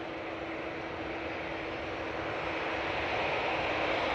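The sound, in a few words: Hainan Airbus A330 landing at Manchester Airport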